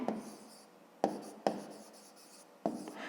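A fifth-grade math solution is written out by hand: four distinct scratchy strokes, each trailing off into faint scribbling, close and quiet with no talk.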